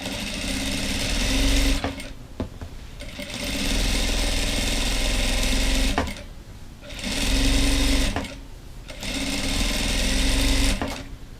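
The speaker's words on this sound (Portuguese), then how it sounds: "E vou passar uma costura pé de máquina aqui também." Sewing machine running a straight-stitch seam along the edge of a cotton dish towel, with bursts of steady whirring stitching broken by short pauses, close and loud.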